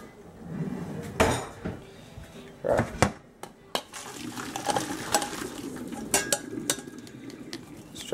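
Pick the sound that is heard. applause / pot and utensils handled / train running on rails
pot and utensils handled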